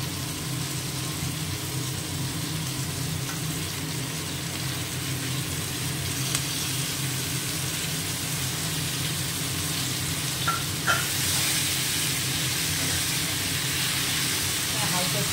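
Pumpkin greens hit a pan of turmeric, salt and ginger already fried in oil, giving a steady, even sizzle throughout with a brief clatter of utensils near the end.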